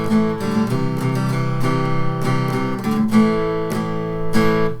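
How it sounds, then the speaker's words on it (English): Acoustic guitar strung with Ernie Ball Earthwood phosphor bronze strings, strummed with a pick in a steady rhythm of bright, ringing chords, close and full, with no voice. "So if I play with the pick, it's going to be like."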